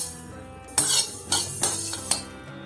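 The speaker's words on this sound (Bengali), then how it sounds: "এটাকে ড্রাই রোস্ট করে দেব।" White and black mustard seeds dry roasting in a pan on low flame, heard as a few sharp metallic clinks and scrapes of a spoon against the pan spaced through the clip, with no voices.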